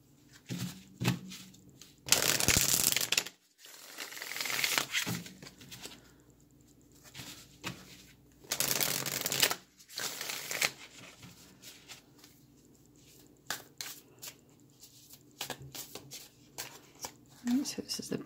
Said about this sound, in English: I'm also going to get a card from the Mixed Emotions deck.